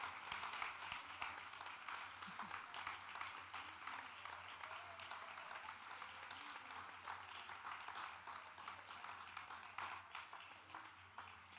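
Applause from an audience at a Black History Month community event, faint and distant, continuing evenly throughout with a low steady hum beneath it.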